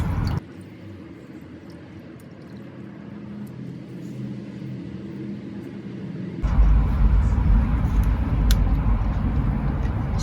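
Used motor oil drains from a Ford Fusion into a catch pan as a low, steady liquid rush that grows heavier and louder partway through, with no talking.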